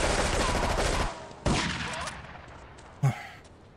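Shotgun blasts in Grand Theft Auto III, a loud burst of overlapping gunfire followed by two sharp separate reports that decay quickly into quieter background.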